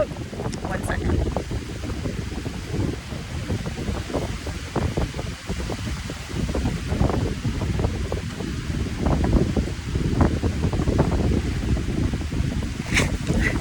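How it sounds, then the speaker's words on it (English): Strong outdoor wind buffets the microphone in a steady, roaring rumble that stays loud for the whole stretch, with gusts and flutter and no voices. "It's so windy."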